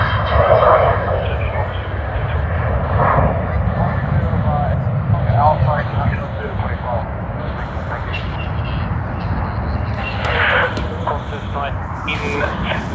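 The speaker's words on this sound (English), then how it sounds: "we'll stay for the departure of what we will see on screen right now. That is this, Hong Kong Airlines." A Hong Kong Airlines jet departing Sydney Airport gives a sustained, loud engine roar with shifting low rumble, while a radio-like voice talks intermittently over it.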